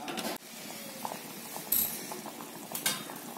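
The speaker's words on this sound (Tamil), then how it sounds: "நல்லா கொதிச்சிருச்சு" Water bubbles and simmers steadily in a cooking pot close by, boiling before rice is added for vegetable biryani, with small pops and an occasional light metallic clink.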